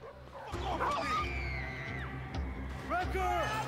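A dog in the Battlefield 4 campaign gives a few close, sharp barks and yelps, with whining, pitch-sliding cries spaced across a few seconds over a low rumble of battle ambience, with shouting voices mixed in.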